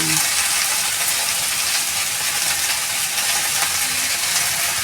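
Washed, chopped tandalja amaranth greens added to a hot pan with eggplant give off a dense, even, crackling sizzle that holds steady and close throughout, with no talking.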